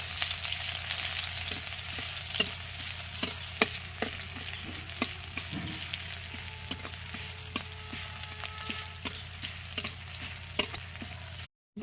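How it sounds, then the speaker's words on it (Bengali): Onions frying in hot oil in a pan for a Bengali rohu fish curry, a steady sizzle throughout with occasional sharp clicks and taps of a stirring spoon, close and continuous with no talking. "তেলটা গরম হয়ে গেছে, ওর মধ্যে দিয়ে দিয়েছি পেঁয়াজ"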